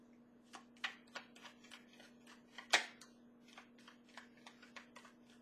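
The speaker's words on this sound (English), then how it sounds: "I keep shuffling and it's like, why am I still shuffling?" Tarot cards being shuffled by hand give a quiet series of crisp, papery flicks and snaps at an irregular rhythm, close and faint, with a steady low hum behind them.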